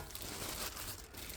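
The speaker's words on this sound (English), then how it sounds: "Unwrap it" Parcel packaging is unwrapped with steady, close crinkling and crumpling of plastic or paper, a continuous busy rustle lasting just over a second, with no voices.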